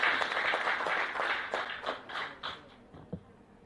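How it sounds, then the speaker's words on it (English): An audience at a digital summit event gives a brief round of clapping that starts fairly full, then thins into a few scattered, fading claps. "Big round of applause."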